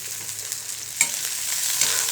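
Garlic sautés in oil in a pan for a Maharashtrian brinjal curry with black masala, a soft, steady sizzle with a couple of light stirring clicks, close up and without speech.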